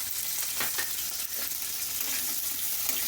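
Steady sizzle of onions and chilli being stirred through hot oil with mustard seeds in a pan, a constant close frying hiss with faint scraping, no voices.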